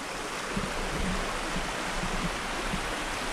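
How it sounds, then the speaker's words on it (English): A shallow, fairly wide river near a lunch area in Colombia flows with steady, close rushing and burbling water noise, constant throughout and with no voices. "this is the river by the lunch area"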